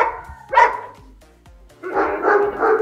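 A European Doberman at a kennel in India gives a loud, close bark, then a longer rough, growly bark after a short pause.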